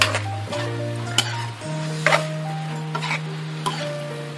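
Onion frying in a wok for a Thai seafood basil stir-fry, a steady soft sizzle with occasional clinks and scrapes of a utensil against the pan, no talking.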